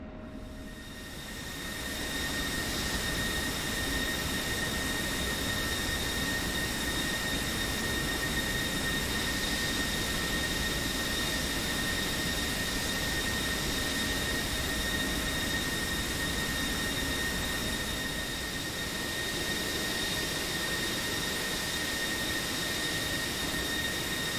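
A steady whine from an F-16C Viper's jet engine taxiing in DCS World, an unbroken drone with sharp high tonal lines over broad rumble that holds at an even level from start to finish.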